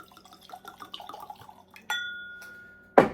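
Penelope bourbon whiskey poured into a glass: a sharp glass clink rings and fades, then a short, close liquid splash lands at the end over quiet room tone.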